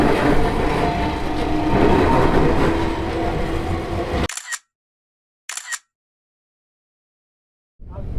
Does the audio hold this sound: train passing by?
yes